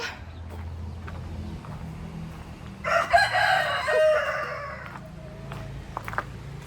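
A rooster crows loudly once amid chickens clucking nearby, with quieter farmyard noise before and after.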